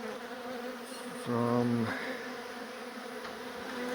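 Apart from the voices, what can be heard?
honey bees buzzing around a garage wall beehive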